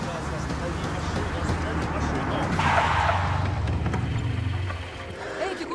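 A car brakes and skids to a halt, a rough tyre scrub rising over engine rumble, with people talking over it.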